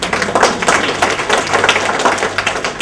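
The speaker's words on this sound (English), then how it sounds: "I must clap for myself." A man claps his own hands, a run of quick, fairly loud, evenly spaced claps close by, continuing steadily with no talking over them.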